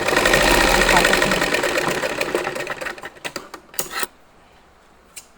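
A sewing machine runs in a steady, dense mechanical whir for about three seconds while stitching a cloth tassel, then slows into a few separate clicks and stops, with a short tap near the end.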